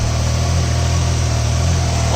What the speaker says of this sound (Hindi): मैंने बाइक स्टार्ट कर दी है और जब मैं इसको रैप करता हूँ